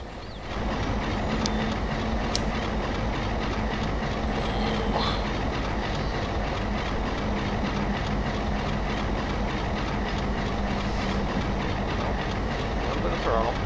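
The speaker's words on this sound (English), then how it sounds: "Hear that Alco chug. Excuse me, MLW." MLW Alco-type diesel locomotive in a train simulator game, a steady loud engine drone and rolling rumble running throughout without pause, with a few faint clicks on top.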